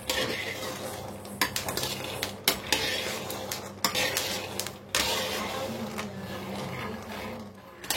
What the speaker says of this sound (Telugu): ఈ పప్పు అనేది బాగా ఫ్రై అవుతుంది